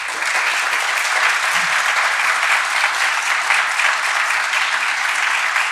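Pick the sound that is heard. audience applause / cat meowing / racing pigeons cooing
audience applause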